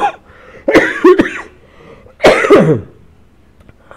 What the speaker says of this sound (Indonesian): mohon maaf saya memang agak batuk